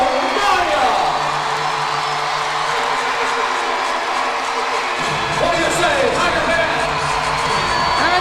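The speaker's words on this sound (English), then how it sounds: "You can hear that crowd" A large crowd at a college gymnastics meet between Arkansas and LSU cheers and whoops loudly and continuously after a floor routine, with a commentator's voice talking over the roar.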